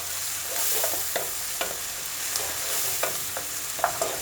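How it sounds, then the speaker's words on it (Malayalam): Onions and cumin sautéing in a pan for egg masala, a continuous gentle sizzle broken by repeated light spatula scrapes and taps against the pan, close by with no voices. "ഇനി നമുക്കിത് ഒന്ന് നന്നായിട്ട് വഴറ്റിയെടുക്കണം"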